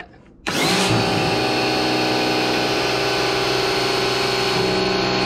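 Karcher pressure washer switching on and spraying steadily across tiles to push an empty watering can, a loud continuous motor-and-jet roar that starts abruptly and holds, with no voices.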